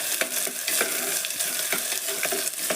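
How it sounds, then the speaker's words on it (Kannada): Ingredients for a red chilli powder masala bath fry in hot oil, making a brief, continuous close sizzle broken by soft rhythmic stirring strokes. "ಇದು ಎಣ್ಣೆ ಒಳಗೆ ಫ್ರೈ ಆಗಕತ್ತೈತಿ"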